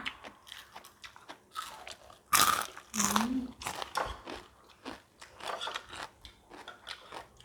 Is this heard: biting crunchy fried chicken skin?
yes